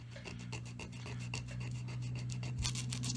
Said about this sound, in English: I'm going to go back and sand it again.